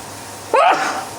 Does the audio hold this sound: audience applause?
no